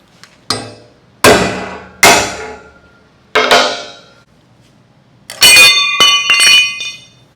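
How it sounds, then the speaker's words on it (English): Hammer striking a welded steel piece to break it off after MIG welding with a Vevor Mig Super 270: several loud, separate metallic clangs ringing out, ending in a quick cluster of bright impacts. "I'm gonna break this off and we'll see what kind of penetration it got."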